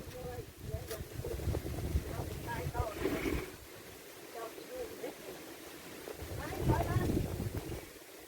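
Wind blows outdoors in a low, rumbling buffet across the microphone, steady for about eight seconds, with people talking over it.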